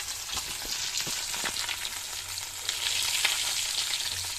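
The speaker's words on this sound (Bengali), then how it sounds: "মাছগুলো ভাজা হোক" Pieces of fish fry in hot oil in a pan, a steady loud sizzle with scattered pops and crackles, close up with no talking.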